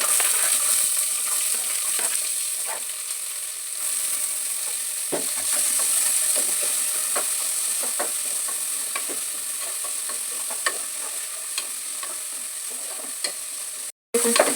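Onions frying with masala and curry leaves in a pan give a steady sizzle broken by frequent scraping stirs of a spatula, fairly close, with no talking; the sound drops out briefly near the end.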